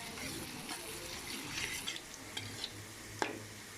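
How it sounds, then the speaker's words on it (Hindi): Onions fry in a pan for karahi with a quiet, steady sizzle, broken by faint stirring scrapes and a sharp clink of a utensil near the end. "अभी हम थोड़ा प्याज डाल लेते हैं, साथ में इसको हल्का ब्राउन करेंगे।"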